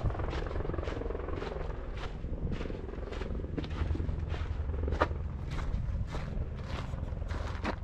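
A yellow helicopter's rotor thumps in a steady rapid pulse on the Everest Base Camp trek, loud and continuous, with engine whine underneath throughout.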